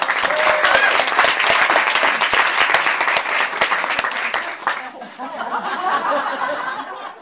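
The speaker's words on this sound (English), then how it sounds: "Round of applause" Applause from an audience at a Book Passage bookstore reading event, dense clapping for about five seconds with light laughter mixed in, then thinning into scattered claps and murmuring chatter.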